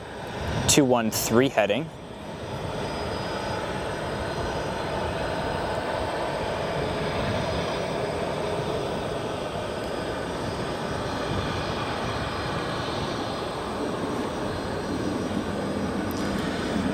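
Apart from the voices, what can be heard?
SAS Airbus A330-300 airliner flying overhead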